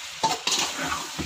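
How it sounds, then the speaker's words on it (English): Onion chicken masala frying and being stirred in a pan over lowered flame, a soft sizzle with a few close scrapes of a spoon over about a second. "Now we are going to fry the masala."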